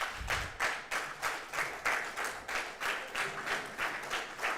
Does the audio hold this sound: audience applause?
yes